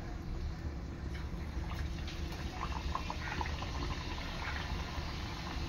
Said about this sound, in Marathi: इथे आपल्या करंज्या तळून घ्यायच्या आहेत.